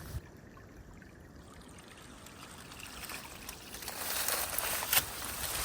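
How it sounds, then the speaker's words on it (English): A small trickling stream at a water source along the Appalachian Trail: a steady, close, soft wash of running water that grows slightly brighter and louder toward the end, with no voices. "Nice little water source."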